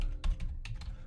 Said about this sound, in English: I just hit Control F on my keyboard